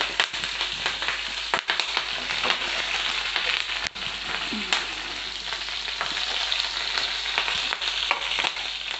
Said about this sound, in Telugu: ఇప్పుడు పచ్చిమిర్చి ఫ్రై అయింది ఫ్రెండ్స్, ఆనియన్ వేసుకున్నాం, కరివేపాకు కూడా. ఇవి మంచిగా ఫ్రై అయ్యే వరకు ఫ్రై చేసుకుందాం.